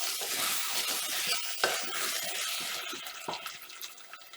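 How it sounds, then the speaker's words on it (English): A spoon works steadily through a thick, bubbling mixture in a pot, with a wet, sloshing sizzle and occasional scrapes against the bottom, close and fairly loud. "Make sure it doesn't stick to the bottom of the pot. Keep on stirring like that."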